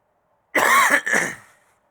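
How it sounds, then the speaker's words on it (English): Two sharp coughs close to the microphone, one right after the other, in an otherwise quiet room. "I had to turn my headphones down to 0 because I had to cough."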